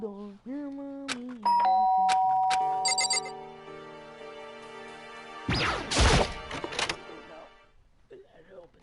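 A doorbell chime in the Danganronpa video game rings out as a series of bright, ringing tones, with talking before it, a voice imitating the chime, and a burst of noise midway.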